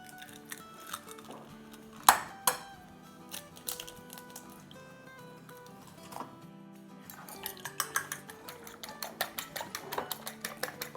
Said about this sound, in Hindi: अब हम झटपट अंडे फेंटते हैं।